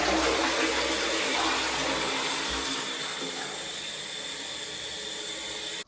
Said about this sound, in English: Toilet's in place and it's working.